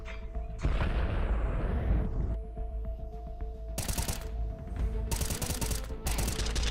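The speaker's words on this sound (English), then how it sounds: "here's that double nades" Grenade blasts and gunfire in a Counter-Strike match, a heavy boom followed by dense, rumbling bursts and clattering shots, loud and continuous throughout.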